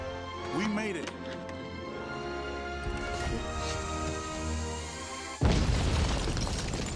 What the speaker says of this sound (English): Wow, explosion!